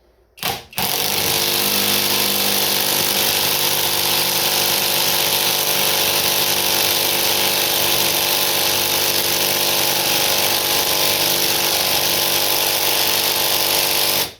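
An impact wrench drives a VEVOR impact socket, starting with a brief burst and then hammering continuously and loudly for about fourteen seconds as it tightens, close up with no voices.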